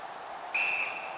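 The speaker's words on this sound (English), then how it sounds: "And this play is whistled down." Referee whistle in the NHL 17 hockey video game during a Toronto vs Tampa Bay playoff match, one short sharp blast over steady arena crowd noise.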